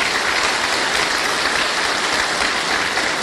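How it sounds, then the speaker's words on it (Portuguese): Audience clapping steadily at a church men's meeting, a dense, continuous wash of applause at close range with no voices over it. "Uma salva de palmas para esse pessoal que começou"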